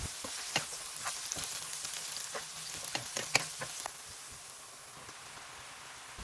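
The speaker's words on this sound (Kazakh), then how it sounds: "Жуаның үстіне туралған сәбізді қосып 3-4 минут қуырамыз" Chopped onion and carrot frying in hot oil for a mushroom gravy, a gentle crackling sizzle broken by scattered stirring clicks that ease off, leaving quieter frying toward the end.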